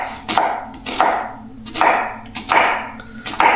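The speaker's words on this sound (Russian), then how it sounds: "У меня одна большая луковица. Мелко режем ее." A large onion being finely chopped with a knife on a board, five crisp loud chops spaced roughly evenly, each with a short ringing tail.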